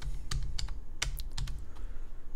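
Keys tapped on a computer keyboard while entering a zip code, a handful of quick, separate clicks spread over two seconds, close and fairly soft, with no talking.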